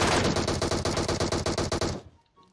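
Rapid automatic gunfire from the PUBG Mobile video game rattles in a loud, fast burst of evenly spaced shots for about two seconds, then cuts off abruptly into near silence.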